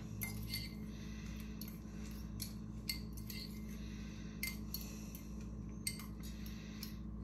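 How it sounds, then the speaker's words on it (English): A utensil stirs freeze-dried Thrive Life food in a container, giving faint, sparse clinks and scrapes against the container over a quiet background, with no talking. "And we'll stir these up."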